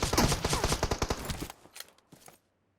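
Rapid gunfire bursts in the mobile battle-royale game PUBG Mobile, sharp repeated shots packed closely for about a second and a half, then a few fainter scattered shots before silence.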